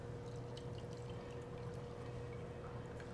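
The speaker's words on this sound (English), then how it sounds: "I'm going to pour this about 3/4 of the way up." Apple sangria poured into a glass, a steady continuous stream of liquid filling it about three quarters full, close and moderately faint with no talking.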